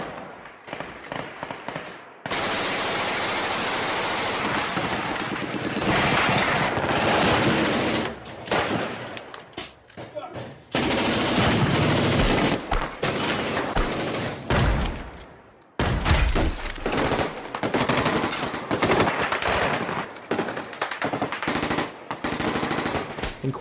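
Gunfire in a 1930s gangster film scene from Public Enemies: dense, loud bursts of rapid machine-gun fire and single shots crackling almost continuously, with brief pauses between volleys.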